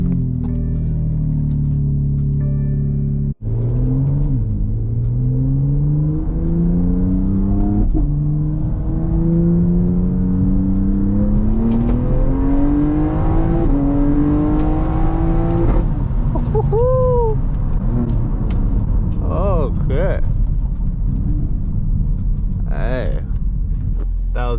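A tuned BMW X3M accelerates hard in a full pull, its engine note rising loud and close through several gear changes, with a voice talking over it and a brief cut near the start.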